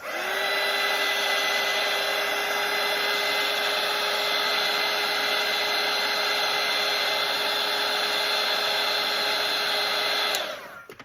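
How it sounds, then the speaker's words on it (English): A hair dryer drying watercolour paint runs at a steady, high whine for about ten seconds, then clicks off abruptly. "grab my dryer, and I am going to ever so carefully dry my bird's house"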